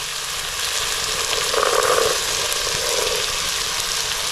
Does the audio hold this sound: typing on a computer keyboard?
no